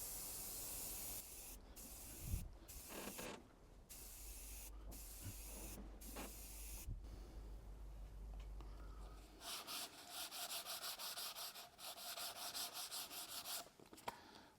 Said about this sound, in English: We're sanding our 18mm tube here.